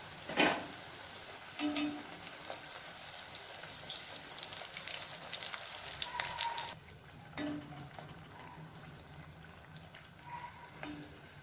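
Wheat flour dough balls deep-frying in oil over a medium flame, a steady close sizzle and bubbling with brief stirring clinks, louder at first and then settling to a quieter fry.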